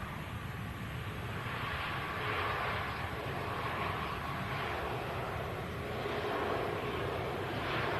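A Pegasus airliner rolls out after landing, giving a steady, fairly distant jet engine roar that holds even throughout with slight swells and no voices.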